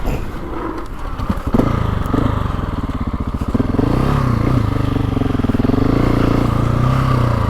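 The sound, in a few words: GasGas ES 700 motorcycle engine running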